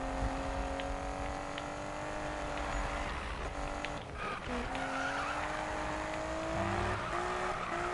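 Car drifting in the racing game Need for Speed (2015), with a loud sustained engine drone and squealing, skidding tires through a long slide, revs dipping and rising, close and continuous with no talk.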